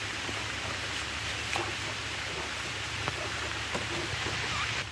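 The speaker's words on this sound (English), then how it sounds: "Here we go with the rain." Steady light rain falling on a river during a canoe camping trip on the Connecticut River, a soft even hiss with a few faint drips and knocks, no voices.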